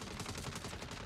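Gunfire from the video game Saints Row sounds as a rapid burst of several sharp shots in quick succession, loud and close, with no talking over it.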